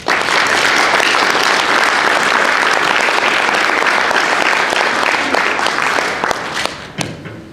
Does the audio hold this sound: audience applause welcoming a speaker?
yes